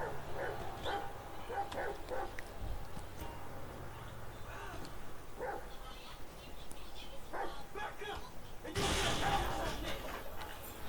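A dog in the video game GTA 5 barks in short bursts at a moderate distance, with several separate yaps over a dense, rumbling game background and a sudden louder noise near the end.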